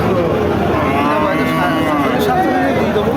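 Cattle moo amid a loud, busy cattle market crowd, with overlapping lowing calls and constant chatter nearby.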